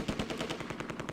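Heavy machine gun fire in the war video game Close Combat, a rapid, evenly spaced stream of shots in one continuous burst at moderate loudness.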